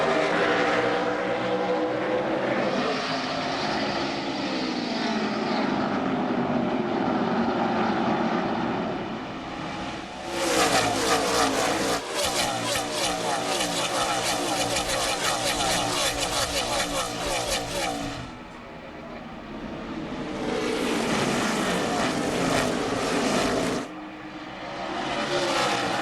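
NASCAR Nextel Cup stock cars roar away at the green flag of the 2005 Checker Auto Parts 500, a dense loud engine din that swells and passes, with commentators talking over it.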